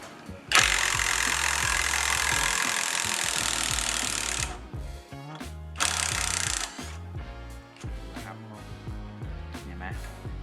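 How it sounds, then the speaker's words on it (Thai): A cheap 18V cordless brushless impact driver hammers a long screw, about an inch deep, out of wood with fast rattling bursts, first one long run, then shorter stop-start bursts, loud and close. "เดี๋ยวเราจะมาลองถอดน็อต นะ ตัวนี้ถูกยิงเข้าไปในไม้ยาวมากเลย"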